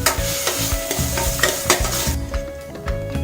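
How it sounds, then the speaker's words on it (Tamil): Tomatoes being sautéed in a pan for a Madurai-style mutton liver pepper fry, with a bright sizzle and repeated scraping stirs of a spoon against the pan, close and loud with no talk. "தக்காளியை நல்லா கொஞ்சம் வதக்கணும்."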